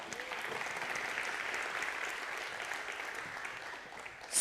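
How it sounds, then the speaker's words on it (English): Audience applause at a children's water-saving show, steady and moderately loud clapping filling the whole stretch with no break. "Give these guys a round of applause."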